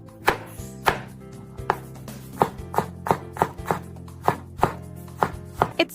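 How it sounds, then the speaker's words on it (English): A knife chops crushed garlic on a cutting board in a series of about fifteen crisp, close taps at a loose, uneven rhythm, with no talk. "Crush the whole garlic once to release its aroma, then chop it."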